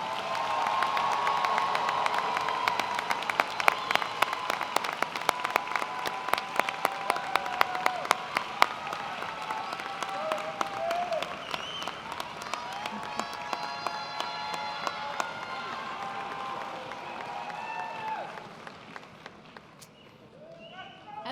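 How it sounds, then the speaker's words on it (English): An audience at a Kennesaw State University fall commencement applauds the new graduates, with sustained loud clapping and some cheering filling a large hall for about twenty seconds before fading out at the end. "Everyone, let's give Kennesaw State's most recent alumni another round of applause."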